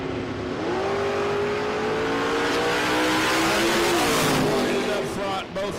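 Fox Body Mustang and Camaro drag cars launch together at a no-prep drag strip, engines roaring loud and close with rising revs that hold steady and then fade near the end, a commentator talking over them.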